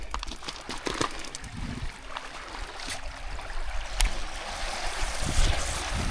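A water pump runs as hot water rushes and splashes steadily with a broadband hiss, growing slightly louder over time, punctuated by a few sharp clicks and knocks.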